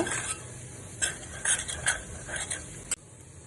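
Spices are sautéed in a pan over a medium flame for a North Indian chicken curry, with a soft sizzle under a few light clinks and scrapes of a spoon stirring against the pan.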